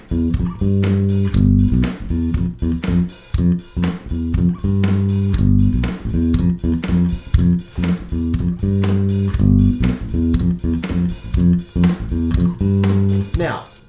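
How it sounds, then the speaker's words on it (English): An electric bass plays a funky, syncopated line, with short punchy low notes in a repeating groove, clear and up front with no talking. "The main bass line sounds like this."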